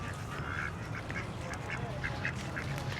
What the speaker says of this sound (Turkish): Ördeklere bakın.